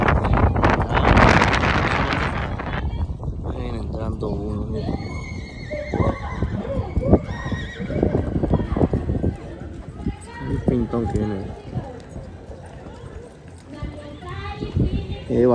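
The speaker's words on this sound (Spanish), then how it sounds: "Y le está llegando más caballos." Horses whinny and hooves clatter at a dancing horse contest outdoors, with wind buffeting the microphone and people talking and calling out throughout.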